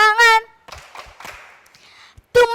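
A group of children at a provincial kindergarten storytelling contest in South Kalimantan claps in short bursts, their high voices chanting together before and after the clapping.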